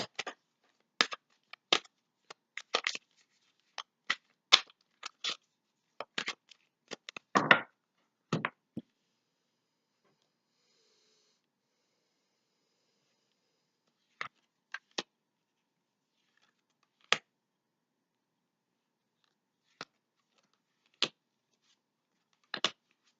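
Tarot cards are handled and pulled from a deck in sharp, dry snaps and flicks, quick clusters at first and then scattered single clicks with long silent gaps.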